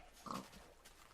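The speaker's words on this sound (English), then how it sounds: "I even had to go out and find some pigs" A pig in Minecraft gives a single short grunting oink, faint and brief against quiet background.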